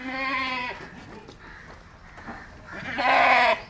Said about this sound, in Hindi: क्या बकरा है माशाल्लाह।